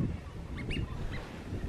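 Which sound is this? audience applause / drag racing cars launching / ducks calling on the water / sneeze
ducks calling on the water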